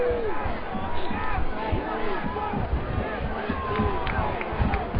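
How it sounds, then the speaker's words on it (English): Football crowd at LaSalle Academy chanting in rhythmic waves of massed voices, steady and loud, with a commentator speaking over the noise. "Defense is the chant from the crowd here at LaSalle Academy"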